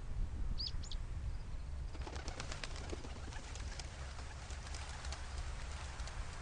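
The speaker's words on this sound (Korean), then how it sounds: "아, 건너편 쪽에 새들이 있군요." Birds in the video game A Bird Story: a burst of fluttering wing flaps near the start, then steady soft cooing and light chirps over a continuous low hum of background music, with no talk.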